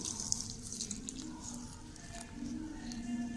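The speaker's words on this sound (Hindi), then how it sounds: "अब डालेंगे दूध" Milk poured into a bowl of sweet pakora batter makes a soft, steady liquid trickle with faint splashes, close and continuous.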